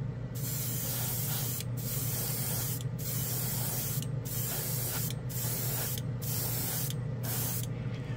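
Close, quiet hiss of an airbrush spraying solvent-based paint onto a plastic model, broken into about eight short bursts with brief pauses between them, no talking.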